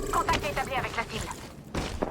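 Gunfire in the Apex Legends video game, a few sharp shots and bursts mixed with game voice lines and effect tones, brief and close.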